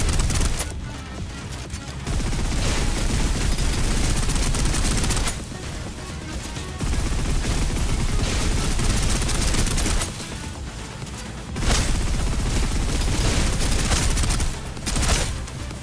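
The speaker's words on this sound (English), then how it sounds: "Suppressive fire." Suppressive gunfire in Snowbreak, dense sustained bursts of rapid shots that roar loud and close, broken by short pauses between long volleys.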